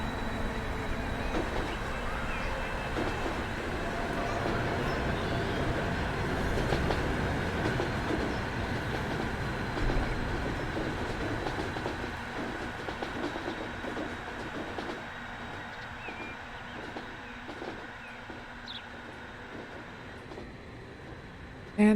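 A train running on rails in the game Transport Fever 2, a steady rumbling roll with faint rhythmic clicking that gradually eases and quiets, ending with a sudden sharp sound.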